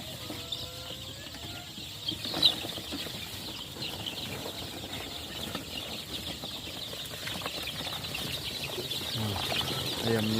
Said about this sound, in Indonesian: Ayamnya excited sekali dengan makan.